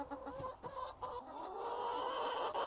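Backyard laying hens on an allotment cluck and chatter in a busy, overlapping flock, moderately close, with no crowing and no talk over them.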